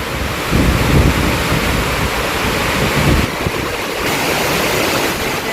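A heavy rainstorm roars steadily around a traveller on the road to a school, a loud, dense wash of rain and wind with no speech.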